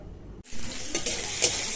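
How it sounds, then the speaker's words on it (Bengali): Tomato, onion and green chili frying lightly in a pan for pasta: after a brief quiet moment a steady close sizzle starts, with a few scraping stirs of a utensil in the pan. "এখানে পাস্তা বানাবো, তাই টমেটো, পেঁয়াজ আর কাঁচা লঙ্কাটা হালকা ভেজে নিচ্ছি।"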